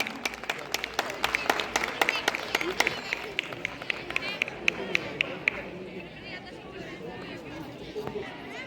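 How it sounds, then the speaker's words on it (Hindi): Loud applause from a school audience at an academy event in Shamli, with dense rapid clapping filling the room and crowd chatter underneath. "जोरदार तालियां"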